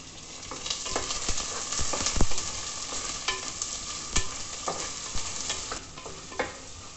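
Shallots and green chilies fry in a pan of oil for a Kerala prawn curry, a steady close sizzle broken by scattered scraping stirs and a few louder clatters, with no talk.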